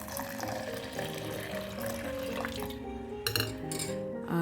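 Tap water runs steadily into a sink or bowl to soak lentils for fritters, a continuous close splashing flow with small clinks of a vessel near the end.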